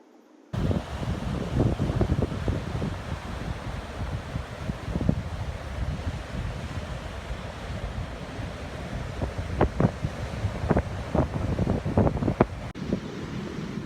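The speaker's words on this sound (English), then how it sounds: "I'm really struggling against this wind" Strong wind blasts across a microphone on a shallow sandy beach, with a constant low roar of wind and surf and gusty buffeting throughout, loud and close, with no voices.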